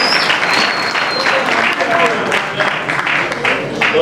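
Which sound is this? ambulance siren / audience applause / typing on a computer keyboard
audience applause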